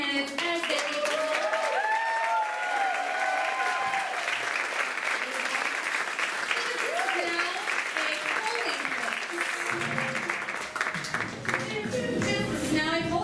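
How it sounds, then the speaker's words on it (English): A crowd gives a round of applause as candidates leave the hall, dense continuous clapping with cheers and shouted voices layered over it throughout. "Let's give one final patriotic round of applause to all of our candidates as they leave the hall"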